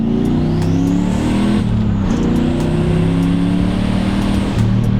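A Volvo accelerates hard in a part-throttle launch control test. The engine rises in a loud, close, rising drone, with rpm climbing through a gear change around the midpoint, and no voices.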